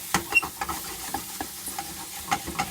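Mushrooms fry in butter for a pheasant sauce, a soft, faint sizzle broken by light spoon scrapes and taps against the pan, heard up close with no talking.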